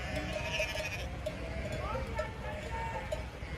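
Sheep in a flock bleat several times over a steady background din, the calls fairly clear and mid-distance, with a cowbell-like clatter mixed in.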